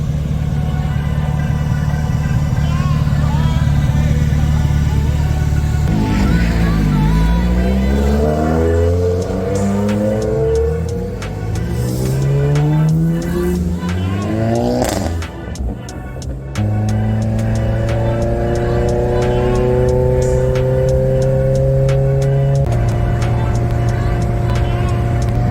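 A car pulls away and accelerates onto the road, engine revving up through several gears with rising and falling pitch sweeps, loud and close throughout.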